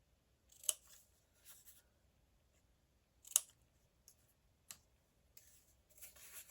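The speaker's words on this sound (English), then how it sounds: "I need to cut away this bottom rectangle here" Scissors snipping paper to cut a pocket for a journal page: a few crisp, close, isolated cuts spaced seconds apart with soft rustling between, in a quiet room.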